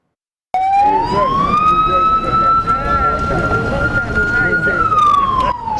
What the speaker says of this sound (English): Sirens blaring at full amplitude, alerting residents of this community living near the Volta River of a possible danger.